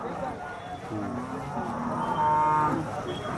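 An HF crossbred cow with large horns moos at a Sangola cattle market in Maharashtra, giving a long, loud, drawn-out call that swells in the second half over steady crowd murmur and market noise.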